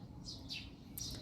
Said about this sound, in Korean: 참새가 많이 놀고 있네요.